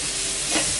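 Chopped tomatoes go into a pan for vada curry and start to sauté, a brief, dense sizzle with stirring heard up close and no talking.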